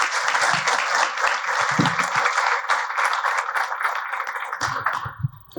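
Audience applause at a book presentation, a loud close burst of many hands clapping that holds steady, then thins out toward the end as a few low sounds and murmurs emerge.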